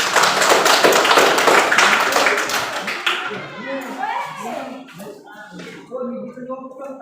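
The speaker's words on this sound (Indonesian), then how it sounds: "Jadi sekali lagi tepuk tangan untuk kita semua." Students in a classroom give a burst of dense, close clapping lasting about three seconds. It then fades out as a teacher's voice continues talking.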